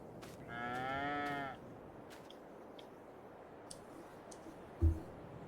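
One moderate cow moo from Farming Simulator 22 cattle, followed by soft ticking clicks and a brief low thump against a quiet farm background.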